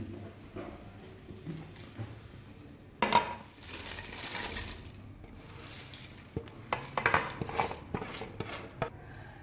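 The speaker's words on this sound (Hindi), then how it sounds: "ये देखिए पानी उबल रहा है। अब मैं इसमें चावल डालने लगी हूँ।" Rice for mutanjan, a sweet rice dish, pours into a pot of boiling water with a brief rushing hiss, followed by bubbling, light stirring and a few metal clinks.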